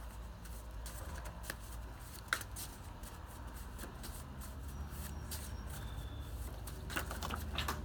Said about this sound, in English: I feel led to shuffle. So I'm gonna do that.